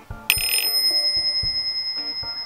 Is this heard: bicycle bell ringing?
yes